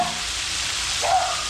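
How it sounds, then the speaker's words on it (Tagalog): Garlic and onion sautéing in a pan, a soft continuous frying sizzle heard up close, with a brief stirring scrape near the end. "Okay, magigisa na tayo ng bawang sibuyas mga Bele."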